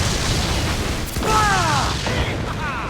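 Ship cannons fire in a naval battle in Assassin's Creed 4 Black Flag, a deep boom under a steady roar of wind and sea, with shouting voices over the top.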